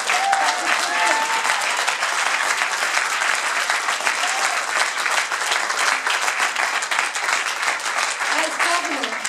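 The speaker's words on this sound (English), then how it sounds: "that's right, you can clap for surplus." A campaign crowd applauds throughout a Democratic primary victory speech for a governor's race, with dense, sustained clapping at steady loudness and a few faint cheers mixed in.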